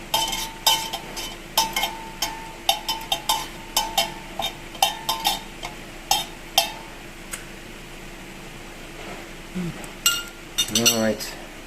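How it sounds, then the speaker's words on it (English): Spoon stirring organic muscovado sugar cubes in a cup of hot drink: a steady run of bright metallic clinks against the rim, fairly close, pausing briefly before a quicker flurry of taps at the end. "I'm gonna stir."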